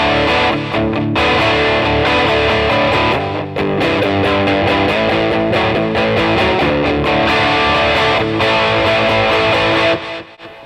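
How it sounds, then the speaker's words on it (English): Electric guitar on the bridge pickup played through an OCD Germanium clone overdrive pedal, giving loud, gritty distorted chords and riffs with short rhythmic breaks, alone with no talk. "So I'm going to throw a little dirt on here, courtesy of the OCD Germanium Clone."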